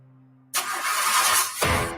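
A car engine cranking without catching in a radio ad for fuel stabilizer: a loud, gritty starter grind runs for about a second after a quiet hum, then breaks off into a shorter, rougher burst.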